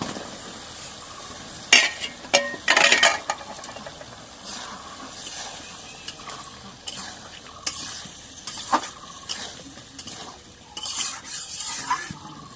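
Potatoes frying and being stirred in a pan for a curry with gourd greens and dried fish, steady close sizzling with sharp scraping clatters of a spatula against metal, bursts at irregular intervals.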